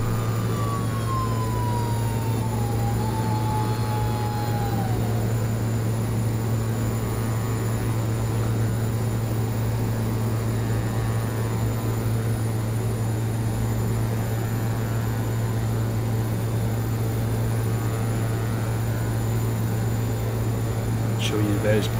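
Carenado C90B King Air turboprop climbing out after takeoff in the Prepar3D flight simulator, a steady loud engine drone with a constant low hum throughout, with a brief descending tone near the start.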